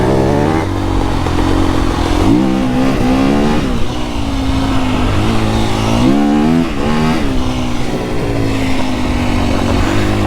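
A 2025 KTM EXC-F dirt bike being ridden in snow, its engine loud and close, revving up and down through several throttle surges and gear changes with a rough, buzzing four-stroke note.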